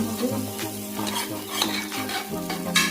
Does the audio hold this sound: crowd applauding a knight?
no